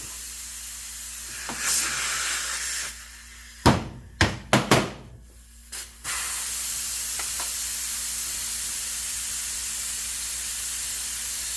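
A steady hiss of pressure escaping from a spray paint can runs throughout, broken midway by a few sharp metallic clicks and knocks.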